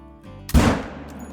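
A single sharp 6.5 hunting rifle shot in a hunting video game, loud and close, with a short decaying echo after a quiet lead-in.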